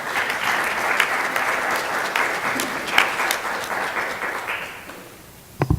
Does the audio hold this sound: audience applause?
yes